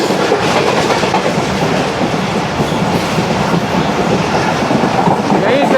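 The Karakoram Express speeds through a station near Karachi, a loud, continuous roar of rumbling wheels and rhythmic rail clatter filling the whole stretch.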